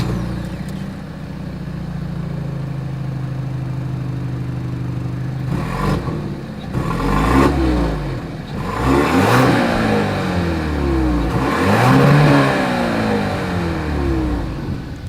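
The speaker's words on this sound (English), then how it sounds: "As always, here is that exhaust clip." A 2023 Genesis GV80 SUV's exhaust, loud and close, idling before several sharp revs that rise and fall, each climb building to a strong roar before dropping back to idle.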